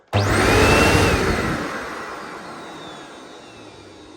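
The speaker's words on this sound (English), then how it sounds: "you can see the brush bar spinning. So not only can you see if the brush bar spinning or not because of a snapped belt, but also the dirt you can see being vacuumed up" A Vax Turboforce upright vacuum cleaner with its brush bar spinning, starting with a loud whooshing surge that settles into a steady, slowly fading roar with a faint whine, close and alone.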